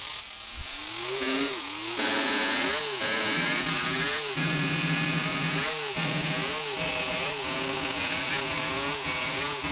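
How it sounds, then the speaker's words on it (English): A flap wheel on a power tool grinds against a Ford Model T flywheel magneto, producing repeated whining bursts that swell and drop as the tool bites in, close and fairly loud with a gritty hiss throughout. "What am I using? Oh, it's a flap wheel."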